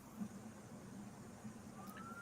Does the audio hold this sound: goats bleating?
no